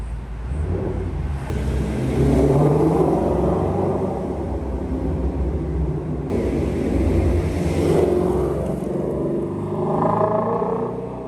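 A Ford Shelby GT350 sports car drives through a parking garage, its engine giving a steady low rumble that swells and eases slightly, close and continuous throughout.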